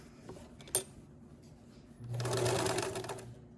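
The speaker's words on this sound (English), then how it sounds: "you wanna be really far away from the wire to sew the channel closed" Sewing machine stitching a channel closed over the wire of a homemade fabric face mask, a short click followed by a steady rapid burst of stitching about a second and a half long, close and clear.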